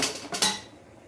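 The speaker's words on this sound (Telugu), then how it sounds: "ముందుగా స్టవ్ పైన కడాయి పెట్టేసుకొని" A metal kadai (wok) is set down on a stove top while bottle gourd roti pachadi is being made, giving two quick, close metallic clanks before the sound fades away, with no talking.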